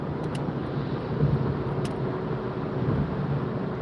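A car drives along English roads toward Wigan at dusk, with a steady low engine and road rumble heard from inside the cabin, plus a couple of faint ticks over the hum.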